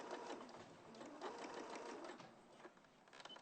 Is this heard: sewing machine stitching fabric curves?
yes